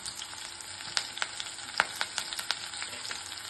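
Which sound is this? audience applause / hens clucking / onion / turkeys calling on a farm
onion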